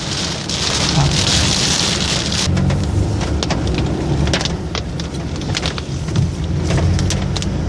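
Steady rain falls outdoors in Loei province, Thailand, a continuous dense hiss with a few sharper patters and a low rumble underneath, no voices.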